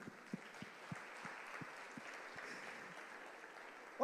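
A church congregation applauds in a broad, soft, distant wash of clapping, with a few louder nearby claps standing out at a steady beat.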